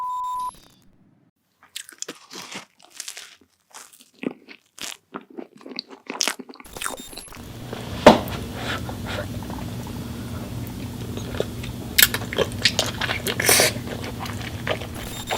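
Loud, close crunching and chewing of food in a mukbang ASMR eating session, with dense repeated crisp bites and mouth noises after a quieter opening of sparse clicks.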